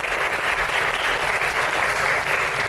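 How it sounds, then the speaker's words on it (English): Applause from a symposium audience welcoming a forum speaker, a continuous dense patter of many hands clapping at even loudness, with no voices over it. "Please give him a big round of applause."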